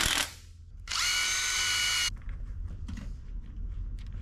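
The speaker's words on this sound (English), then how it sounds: "I'm gonna have to hit this with the unibit real quick" Step drill bit boring out a hole on a 1972 Chevrolet C10 truck during a big-block engine swap: a short burst of cordless drill whine, then a steady loud drilling run of about a second, followed by quieter clicks and handling noises.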